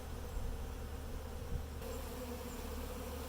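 Honey bees buzzing around a newly installed Flow Hive as they land on the board and go inside, a continuous soft drone from nearby.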